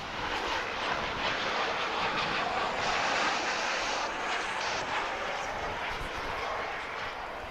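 Airliner at DFW Airport, a steady broadband engine roar holding at a moderate distance for several seconds, fairly even in loudness with slight swelling midway.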